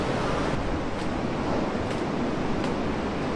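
Sea surf breaking steadily on the coast, a loud continuous broadband wash with slight swells, mixed with some wind noise on the microphone and no voices.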